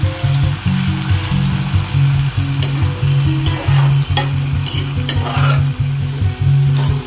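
Paneer frying in hot refined oil in a pan, a steady close sizzle with a low rhythmic hum and periodic scraping of a spatula stirring, loud and continuous without any talk.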